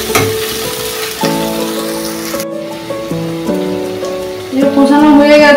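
Onion paste frying in hot oil for a katla fish curry, a steady loud sizzle and crackle close up that swells toward the end, with faint tonal kitchen sounds underneath.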